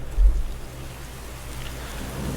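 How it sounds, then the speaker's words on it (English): Steady rain beats down on the old roof of a plantation home, a constant dense hiss with a low rumble underneath and a brief heavier swell near the start. "While the rain beat down on the old roof of the plantation home, the Greenwoods speculated on the location o"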